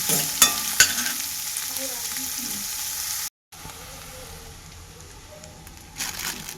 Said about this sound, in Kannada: ಇವಾಗ ಒಗ್ಗರಣೆಗೆ ಮೊಟ್ಟೆ ಹಾಕ್ತಾಯಿದ್ದೀನಿ